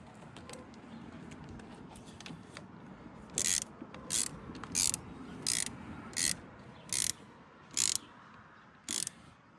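Ratchet tightening the battery fitting in a Volkswagen ID.3 during a battery replacement, eight evenly spaced sharp clicking bursts, close and clear, after quieter handling noise.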